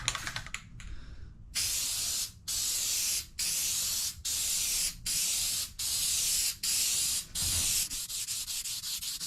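Spray adhesive hisses onto a BMW X3 sunroof headliner in a series of about eight steady bursts, each lasting around a second with short gaps between them, close and loud.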